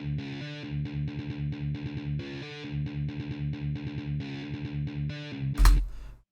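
Heavily distorted electric guitar plays an intro riff, jumping between octave-displaced notes in a choppy, stuttering rhythm, loud and alone, ending in a brief noisy burst.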